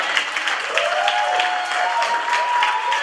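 An audience at a youth anniversary honoring ceremony breaks into sustained applause, even and fairly close, with a brief voice-like tone running through it.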